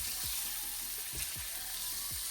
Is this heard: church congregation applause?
no